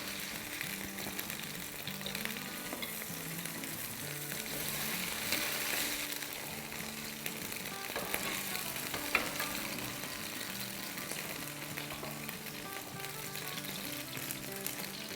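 Chicken pieces searing in oil in a pan while cooking a chicken and potato soup stew, giving a steady, close, continuous sizzle with no talking throughout.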